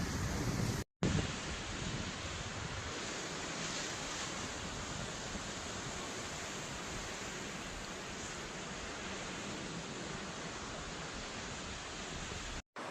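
Steady roar of ocean surf rolling onto a famous surf beach in Lofoten, Norway, with waves under eight feet; a continuous broadband wash, fairly loud and unbroken, with wind mixed in and no voices.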